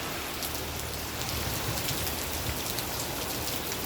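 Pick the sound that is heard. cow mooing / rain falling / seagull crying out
rain falling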